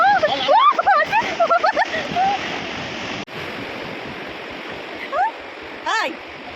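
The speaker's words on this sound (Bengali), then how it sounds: "জল যাচ্ছে আসছে।" Water washes in and out at Udaipur beach as a constant broad rushing wash, while people chatter and exclaim loudly over it.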